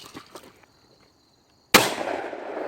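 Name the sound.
shotgun firing at shooting range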